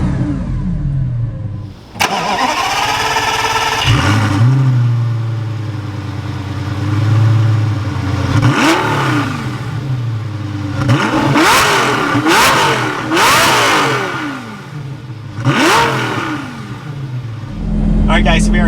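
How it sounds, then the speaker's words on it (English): Lamborghini Gallardo engine revving, with a starter crank followed by several sharp throttle blips that rise and fall in pitch over a steady idle, loud and close, with a voice speaking briefly between revs. "let's go ahead and rev it up, see what this thing sounds like"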